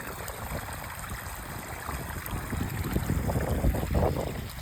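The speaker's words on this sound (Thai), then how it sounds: "น้ำไหลแบบนี้นี่" Water from a solar-powered pump pours and splashes steadily outdoors, a continuous rushing flow that swells slightly louder toward the end, with no voices.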